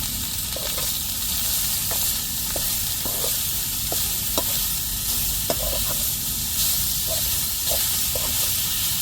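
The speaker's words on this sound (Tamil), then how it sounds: "கேரட்டும் வதக்கியாச்சு." Carrots with grated coconut sautéing in a hot pan, a steady sizzle running throughout with frequent light scraping and tapping of a spoon stirring, and no talking.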